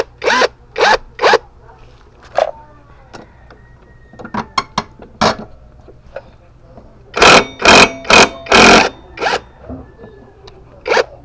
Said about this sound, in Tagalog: Ganyan lang kadali magtanggal mga boss, lalo na kapag meron ka talagang impact wrench.